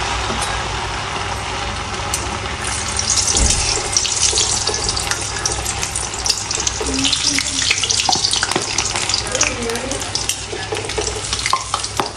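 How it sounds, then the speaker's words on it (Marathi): Sabudana tapioca pearl cutlets deep-frying in hot oil, a loud, steady, close bubbling hiss that thickens after a few seconds and carries on without a break, no speech. "तेल छान तापले आता आपण कटलेट तळून घेऊया"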